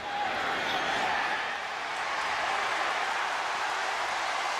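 Stadium crowd at a 2006 Florida vs South Carolina college football game roars steadily after a 22-yard field goal attempt by kicker Chris Hetland, a continuous broad wash of cheering that stays loud and even throughout.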